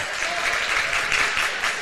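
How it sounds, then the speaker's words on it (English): A high school basketball crowd of Breckenridge Cowboys fans roars and applauds in a gym, a dense, steady wash of cheering and clapping with faint voices mixed in. "the Cowboy crowd cheered on their Cowboys"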